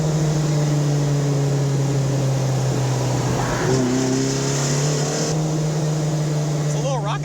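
A 1976 Alfa Romeo GTAm race car engine drones steadily at close range, with its pitch dropping and climbing again during a downshift partway through.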